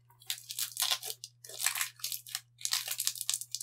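Someone chews tough, crunchy South African candies, close and quiet, with three bursts of crisp crunching and biting separated by short pauses and no talking.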